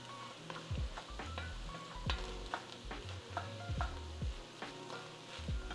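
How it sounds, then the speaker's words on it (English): Minced garlic is stirred into softened vegetables in a pan for American goulash, with a steady sizzle under repeated scraping and clinking strokes of the spoon close by. "I'm going to add in my minced garlic. Let's give that a little stir."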